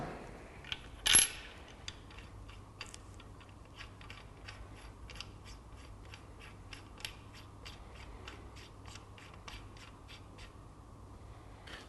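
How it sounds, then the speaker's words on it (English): A V-bar stabiliser unit is screwed onto a compound bow: one sharp metallic clink, followed by a long series of faint, rapid ticking clicks from the threads turning, close and quiet. "I do this by screwing in a V-bar unit and then attaching"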